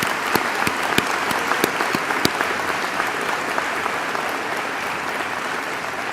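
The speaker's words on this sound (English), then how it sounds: "Give them a round of applause." An audience at a university spring commencement ceremony breaks into steady applause, a thick, even patter of many hands with a few sharper claps standing out near the start.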